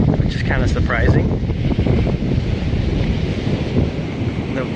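Ocean surf rolling onto the sand at Strands or Salt Creek Beach in Southern California, a loud continuous wash mixed with wind buffeting the microphone, with a brief voice early on.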